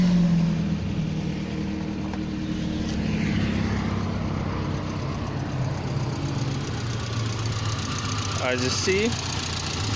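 A car engine with a blown turbo runs steadily at idle throughout, a continuous low rumble and whine, with a person talking over it.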